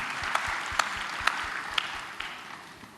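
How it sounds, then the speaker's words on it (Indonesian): Church congregation applauding, a steady wash of clapping from many hands that holds evenly for a few seconds and slowly tapers. "Kita berikan tepuk tangan."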